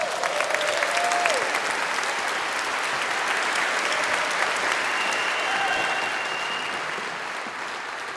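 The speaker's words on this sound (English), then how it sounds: "Please, some warm noise for Carol Fox." An audience claps warmly to welcome Carol Fox, a discrimination lawyer speaking at a Scottish independence referendum event, with dense, sustained applause that fades slightly toward the end.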